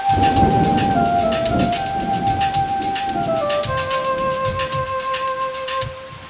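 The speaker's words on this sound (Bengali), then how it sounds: "হঠাৎ বৃষ্টি শুরু হলো" A cartoon sound effect of rain starting suddenly: a dense, steady downpour hiss with a low rumble underneath, accompanied throughout by tonal musical notes and bright repeated chimes.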